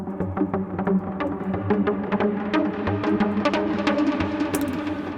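Hardcore synth melody with pitch bends down on the final notes, from a Dutch hardcore production session: a dense, loud run of rapid bright notes over heavy low end, continuous and without talk.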